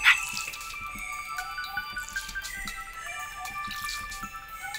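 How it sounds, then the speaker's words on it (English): In the Stardew Valley video game, plants are watered with a run of short, soft watery drips and splashes over light chiming game music, fairly quiet with no talking. "Now let's water our plants."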